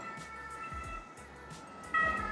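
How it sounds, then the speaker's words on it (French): An ambulance siren sounds faintly from a Paris street in the 20th arrondissement near Gambetta, heard from indoors in a studio apartment as a distant, muffled wail with a brighter swell of its tones near the end. "c'est Paris, hein, c'est les ambulances"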